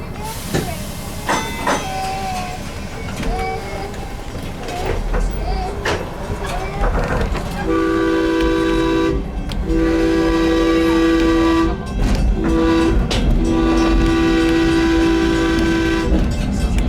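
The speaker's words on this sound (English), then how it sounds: "The sound you just heard, that's our whistle" Whistle of the Willamette Shore Trolley, on a former electrified railroad line, blowing two long blasts, a short and a long, with steady harmonic tones over the rumbling hiss of the moving car.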